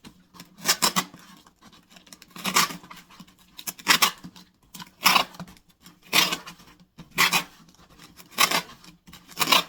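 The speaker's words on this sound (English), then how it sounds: "So now what I need to do is just secure it with the tape" Tape being pulled and pressed on to secure a handmade paper center for a large rose or peony, heard as repeated close, crisp ripping and rubbing bursts at a steady rhythm, with no talk.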